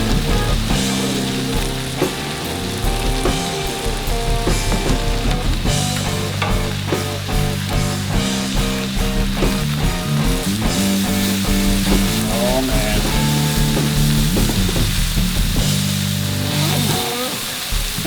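Cheese steak meat and a mayonnaise-coated bun sizzle on a flat top griddle, a loud steady frying hiss with scraping stirs, while someone talks over it.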